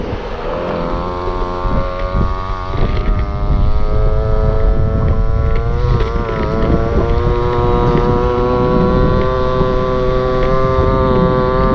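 A Go-Ped scooter's small two-stroke engine runs again after sitting for more than 15 years, revving at high throttle with a loud, buzzing whine that rises and falls slightly and is roughened by wind noise.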